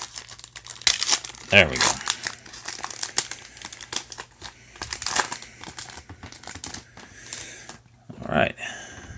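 Trading cards from a Prizm, Leaf and Score football blaster box are handled up close with crinkling and rustling bursts of packaging and card stock. A person speaks briefly between the sounds.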